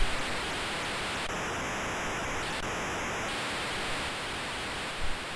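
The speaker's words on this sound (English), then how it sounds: "Horrible, just like background white noise. It's supposed to be a crowd." Harsh, steady white-noise hiss standing in for a crowd in an Amstrad CPC soccer game, continuous throughout with a brief high electronic tone layered over it midway.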